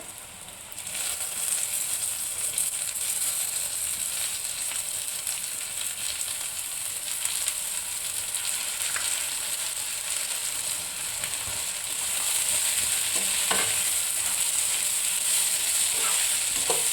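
Masoor dal being fried and stirred with browned onions in a pan, a steady loud sizzle and hiss that runs throughout, with occasional scrape-like clicks of stirring close by.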